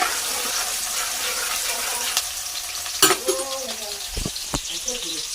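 Curry leaves drop into hot oil and sizzle hard, joined by scraping stir sounds and a few sharp knocks. Birds twitter faintly in the background of a village kitchen.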